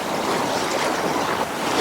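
Cold mountain river water rushes in a dense, steady broadband roar, loud and close, with no break across the short stretch.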